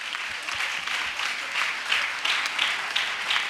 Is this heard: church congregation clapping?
yes